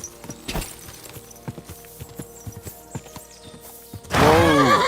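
Horse hooves clip-clop at a walking pace in the video game Kingdom Come Deliverance 2, an irregular series of close, clear knocks over a quiet background. A loud horse whinny rises at the end.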